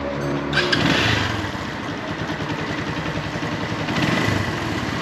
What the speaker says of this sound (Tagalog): Tinanong ko sa kanya bakit maingay yung makina natin, lalong lalo na sa start up